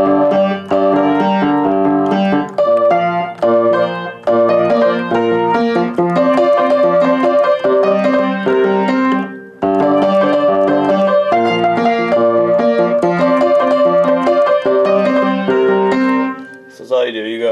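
A piano plays a piece with the left hand rolling through broken chords one note at a time. The flowing notes are close, full and continuous, with one short break midway and a brief stop at the end.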